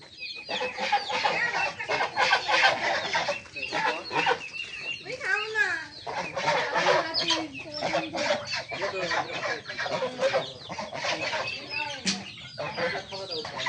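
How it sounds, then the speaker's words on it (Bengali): Chickens and ducks crowd together at dusk for a feeding of paddy rice at a village home, with continuous close clucking and squawking that rises and falls throughout. "আমাদের বাসায় দেখেন মুরগি হাঁস সব এক জায়গায় জড়ো হয়েছে খাবার খাওয়ার জন্যে"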